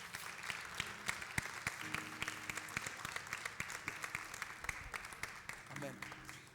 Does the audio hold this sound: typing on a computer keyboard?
no